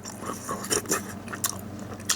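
Crispy, spicy fried rice cakes (tteok-gangjeong) crunched between the teeth, heard close up as a few sharp, crackly bites spaced over a couple of seconds, with no talking.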